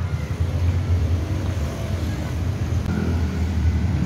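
A 2019 Toyota Fortuner with a 2400 cc engine runs steadily, giving a low, even engine hum with a faint broadband hiss over it, moderately quiet and continuous without pauses.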